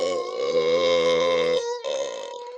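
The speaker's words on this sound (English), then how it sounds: "I said grr and you burp." A long, drawn-out burp, loud and close, holds a throaty tone for over a second before a short break and a fainter trailing rumble.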